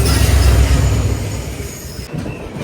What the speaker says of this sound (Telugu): Diesel locomotive.